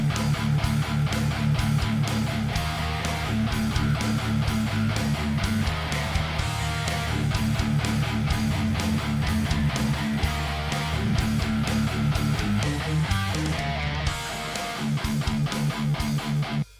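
An unmixed, unmastered thrash pop-punk song plays back with driving guitars, bass and drums, a dense and steady full-band wall of sound that stays loud and continuous throughout.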